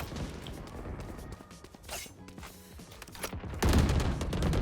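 Gunfire from a Ghost pistol in the video game Valorant during a deathmatch: quick bursts of sharp shots with crashing impacts, loud and close, rising to a heavier barrage near the end.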